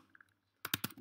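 Computer keyboard being typed on: a brief burst of three or four quick, close keystrokes after a short quiet pause.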